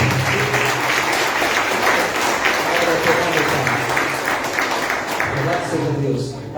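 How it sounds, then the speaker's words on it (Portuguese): Church congregation applauding during a thanksgiving worship service, a steady wash of clapping across the whole stretch with voices mixed in underneath. "aplaudir o Senhor, amém"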